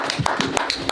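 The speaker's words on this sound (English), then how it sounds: "Clap it up, guys." A few people clap for the Skyline Coyotes football team at a sports media day, roughly half a dozen sharp, uneven claps close by over a short moment.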